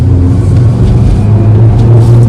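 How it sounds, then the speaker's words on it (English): A Maruti Ignis small car engine hums steadily at low pitch while driving, a continuous close drone with slight rises, no talking. "you hear that engine noise as well, and it doesn't feel noisy"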